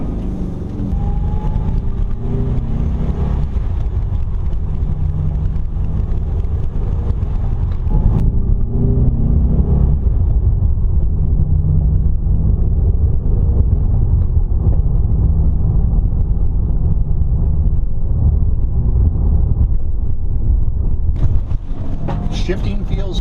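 Air-cooled 1986 VW Vanagon Westfalia camper van driving, a steady loud engine drone with gear changes and wind buffeting, continuous and close for the whole stretch.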